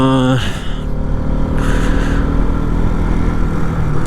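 A motorbike rides up a mountain road on the way from Leh toward Khardung La, its engine a steady, loud hum throughout, with a brief horn-like tone at the start.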